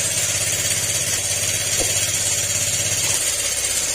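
Motorcycle engine running loud and rough after a tune-up, a steady close-up drone with a heavy low throb that eases slightly near the end; no talking.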